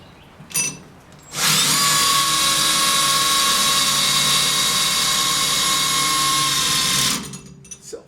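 A power drill drives a self-tapping screw into thick metal on a 1971 Chevy C10, whining loudly and steadily for about six seconds after a couple of brief knocks, then stopping abruptly.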